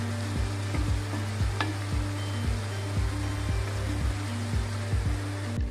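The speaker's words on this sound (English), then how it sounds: "Now we added the roasted vermicelli to all the cooked vegetables. Mix it along together. We continuously mix them together." Roasted vermicelli is stirred with cooked vegetables in a frying pan, steady sizzling under repeated rhythmic scrapes of a spoon against the pan, loud and close with no talking.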